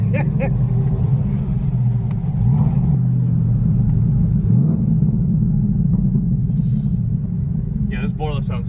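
A Corvette sports car's engine rumbles steadily and loudly from inside the cabin, a deep continuous drone with slight swells, while people talk over it.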